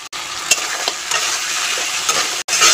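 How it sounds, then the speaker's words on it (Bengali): King crab frying in a spicy masala in a village kitchen, stirred steadily: a loud, continuous sizzle with several scraping stir strokes and two brief gaps, and no voices. "আমি ঢাকনা চাপিয়ে চাপিয়ে কাঁকড়াটাকে এই মশলার মধ্যে কষিয়ে নেব"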